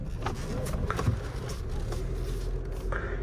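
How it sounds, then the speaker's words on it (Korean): Wildtrak off-road car on a test drive, a steady low engine and road rumble filling the cabin throughout, with faint scrapes and small knocks on top and no clear voices. "테스트 드라이브를 하게 됩니다."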